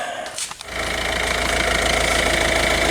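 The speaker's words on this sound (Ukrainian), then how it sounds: "Дивіться, як тихонько мотор працює." A Volvo car engine, just repaired with flywheel and clutch work, cranks and catches, then settles into a steady, smooth idle with a low continuous hum and faint rhythmic ticking.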